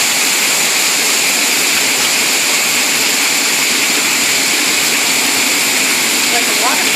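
Heavy hail falling in New England weather, a dense, steady roaring hiss like a waterfall that fills the whole stretch, with no letup.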